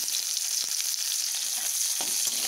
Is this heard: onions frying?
yes